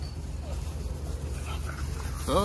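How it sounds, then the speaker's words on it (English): Micro bully dogs whimper and pant close by, with a short bark near the end, while a person talks over them. "These dogs tripping"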